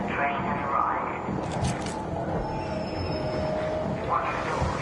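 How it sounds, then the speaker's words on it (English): A train pulls into a station with a steady rumble and wheel squeal, and a high tone rises partway through. It runs continuously for several seconds under background voices. "Train has arrived."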